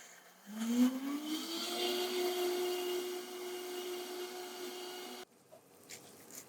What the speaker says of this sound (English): you just want to add enough water so that the blender can do its job and really liquefy everything that's in here